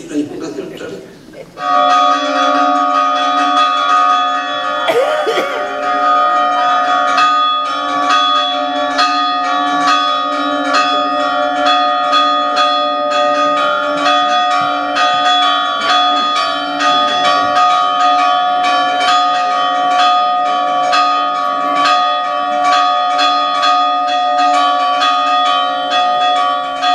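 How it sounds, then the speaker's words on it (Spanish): Church bells ring out loudly and repeatedly in a sustained pealing pattern, their tones overlapping and lingering for the whole stretch. "Y entonces empezaba a repetir las campanas ya"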